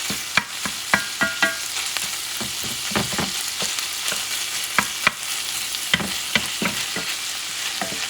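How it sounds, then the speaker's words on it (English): Chorizo frying in a pan over heat turned a couple notches below medium, a steady sizzle with scattered sharp clicks and scrapes of stirring, close by and without talk. "Once this chorizo, and this doesn't take a long time, start getting dark and cooked"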